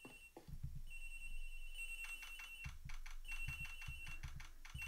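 In the Ace Attorney Investigations video game, a telephone's electronic ring tone repeats in short bursts over a soft, rapid keyboard-like clatter, moderately quiet and with no voices.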